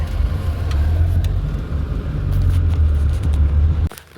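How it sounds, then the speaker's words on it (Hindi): A car is driven home to be parked, giving a steady, loud engine and road rumble heard from inside the vehicle that drops away abruptly just before the end. "घर चल के पहले गाड़ी खड़ी करते हैं।"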